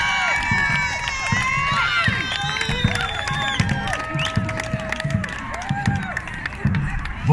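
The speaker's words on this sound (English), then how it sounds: "Come on, cheer them on, loud and clear." Spectators at a men's semifinal boat race cheer, shout and clap in a loud, lively crowd roar, while a voice speaks over the noise throughout.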